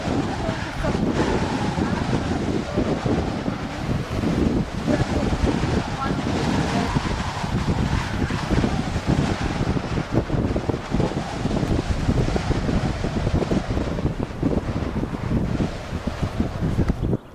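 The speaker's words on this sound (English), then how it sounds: "It's extremely windy this morning." Strong wind buffets the microphone in Torres del Paine, Patagonia, a loud, continuous roaring rumble with gusty surges that never lets up across the whole stretch.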